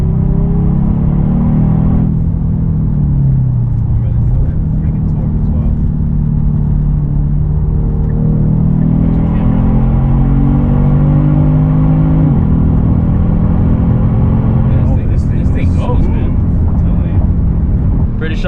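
Kia Stinger GT2 accelerating with a loud, close cabin drone as its turbos build boost, the engine note rising through several gears with audible drops at each shift; people talk intermittently throughout.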